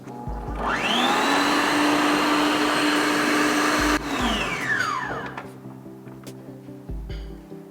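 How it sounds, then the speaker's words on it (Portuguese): Electric stand mixer beating cake batter for a Pernambuco bolo de rolo, whirring up to a loud steady high speed, running for a few seconds, then winding down with a falling pitch, followed by light clinks. "Para não fazer aquela poeira quando, né, a batedeira começar a trabalhar. E vamos voltar a bater."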